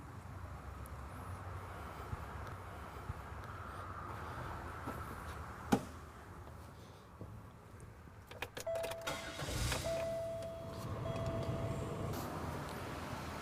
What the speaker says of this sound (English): Next, we're going to start the vehicle.